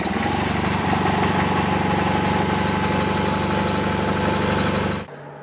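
A Toro Wheel Horse 416H lawn tractor engine idles loud and steady with a throbbing mechanical chug for about five seconds, then cuts off abruptly into near silence.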